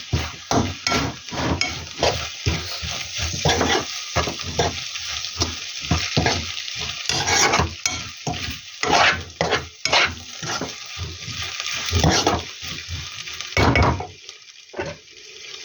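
Turmeric gets stirred into a dish frying in a pan, a spoon scraping and clinking in a steady rhythm over a constant loud, close sizzle.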